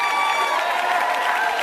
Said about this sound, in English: Keep your hands clapping, family.